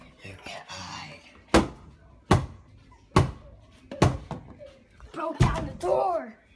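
A door is broken down with about five heavy, evenly spaced slams and thuds, loud and close, with voices talking and whispering between the blows.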